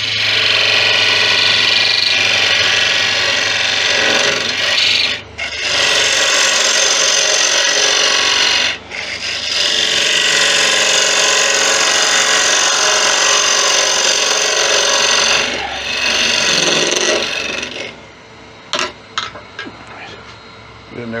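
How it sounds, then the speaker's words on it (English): A spindle gouge cuts acacia on a wood lathe, shaping the top of a turned bonnet-shaped lid; a loud, steady rasping hiss broken by brief pauses, ending with a few light taps. "We're in there with a spindle gouge to shape the top of the hat."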